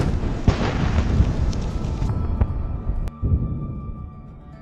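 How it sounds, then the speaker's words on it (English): A Russian combat vehicle struck by HIMARS detonates and burns: a dense, heavy roar of explosions with sharp booms and crackling bursts, loud and close, fading slightly toward the end. "The vehicle begins to detonate and burn fiercely."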